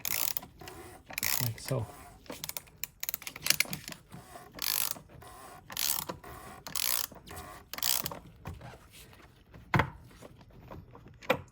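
Ratchet clicking in repeated bursts while tightening the oil filter housing on a 2017 BMW F20 118i, close and fairly loud, with brief pauses between strokes and a few short spoken words.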